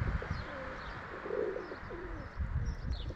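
Pigeons cooing and chirping at a rural Polish loft in Oskarżyw, soft repeated coos with light calls over a steady outdoor background, a little wing flapping, and no talking.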